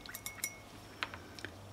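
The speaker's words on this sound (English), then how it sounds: "rinsing it out in the clean water" A paintbrush swished and tapped in a glass jar of clean water, producing soft liquid splashes and light clinks against the glass in a few quick bursts, quiet and close.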